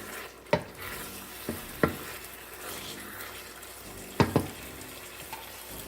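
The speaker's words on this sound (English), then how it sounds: "Gonna stir it in nicely." Spoon scraping and clinking against a pot as thick Jamaican brown stew chicken is stirred, a few distinct knocks spread over a quiet background.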